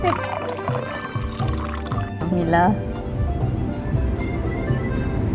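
Cold sparkling spritzer water is poured into a bread dough mix for steamed buns with a close, gurgling splash, while people talk over and around it.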